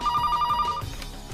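Telephone ringing, a rapid electronic trill pulsing in quick even bursts for under a second before stopping, fairly loud against a low background.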